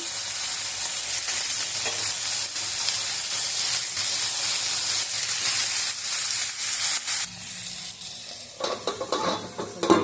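Pieces of red tuber and brinjal frying in hot oil for a tamarind stew, a continuous bright sizzle and hiss with occasional stirring scrapes, softening toward the end; no talking.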